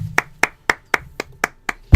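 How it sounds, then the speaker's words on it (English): Slow, steady hand clapping by one person close by, eight evenly spaced sharp claps over two seconds with quiet gaps between. "Stop clapping."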